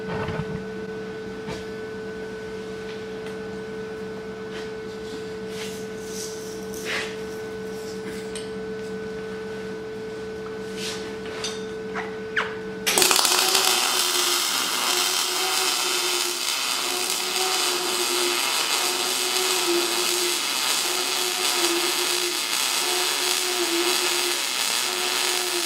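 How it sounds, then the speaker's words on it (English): A welder joins a truss onto a Jeep JK axle tube during a one-ton axle swap. A quieter humming stretch gives way to a steady, loud crackling hiss of welding for the second half. "I'm just welding out the truss where it touches"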